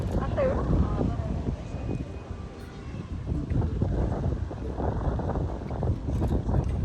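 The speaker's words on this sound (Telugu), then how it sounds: "గాలి కూడా చాలా బాగుంది కదా" An outdoor breeze in London rumbles steadily against the microphone, giving a continuous low gusty buffeting, with people talking over it.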